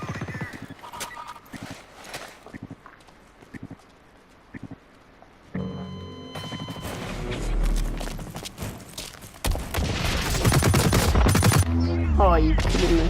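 Automatic machine gun fire from the PS4 shooter BlackLight Retribution in team deathmatch. Quieter game sounds and brief voice come first, then sustained loud bursts of gunfire build up and dominate the later half.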